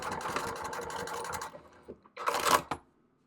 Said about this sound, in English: I'm going to go ahead and stitch these raw edges together so that it doesn't